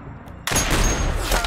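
Gunfire from the video game Metal Gear Solid breaks a quiet moment with a sudden loud burst of rapid shots and booming impacts that carries on to the end.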